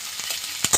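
Onions frying in a pan for a lote fish jhuri, a steady soft sizzle with a few louder stirring scrapes near the end.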